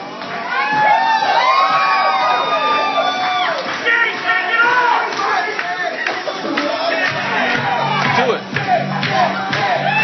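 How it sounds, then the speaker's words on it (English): A lively crowd cheers, whoops and shouts continuously to judge a dance-off, with children's voices mixed in; loud and close throughout with a few brief dips. "She's getting more applause than me."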